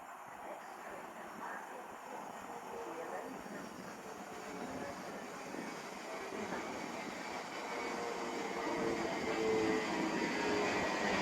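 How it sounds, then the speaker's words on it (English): An Avanti West Coast class 807 Avero electric train, unit 807006, arrives at platform 6 of Milton Keynes Central on the London Euston to Liverpool Lime Street service, a broad steady rumble and hiss that slowly swells louder as it draws in. "Going to arrive on platform 6, going to be an Avanti West Coast class AO7 Avero, going from London Euston to Liverpool Lime Street"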